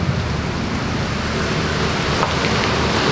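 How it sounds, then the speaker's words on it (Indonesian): Heavy rain pours in Bali as a dense, steady hiss of downpour. It is loud and continuous throughout, with no voices. "Hujan deras nih di Bali."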